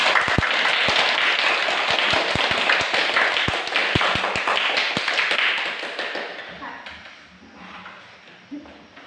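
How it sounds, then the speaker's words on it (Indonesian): Schoolchildren clapping their hands together in rhythm in a classroom lesson, a burst of sharp claps that fades out after several seconds, followed by quiet room sound. "Kita tepuk tangan dulu, semangat sekali"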